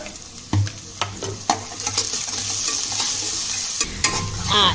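Salted onions fry in hot oil, a close and loud sizzle broken by sharp knocks from stirring against the pan, with no voices.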